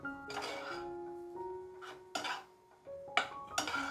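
A metal spoon scrapes and clinks against a cooking pot as peanuts and poha are mixed together. The sharp, irregular taps and rattles come in short bursts with quiet gaps between them.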